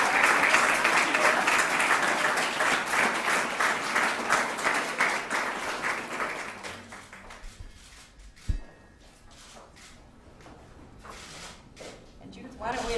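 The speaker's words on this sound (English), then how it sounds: "So let's give our award winners another round of applause." An audience applauds award winners with dense, lively clapping that thins out after about six seconds into scattered claps and a brief thump, then picks up faintly again near the end.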